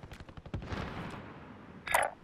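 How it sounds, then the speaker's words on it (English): Rapid bursts of video game gunfire crackle at moderate level in an online multiplayer match, a quick string of shots followed by a lingering rumble and then a sharper blast near the end. "See a guy running in a straight line away from me, I'm definitely gonna shoot him."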